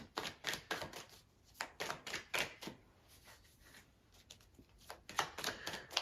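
Tarot cards being shuffled by hand at close range, a run of crisp riffling bursts in irregular rhythm with a short lull in the middle, no talking.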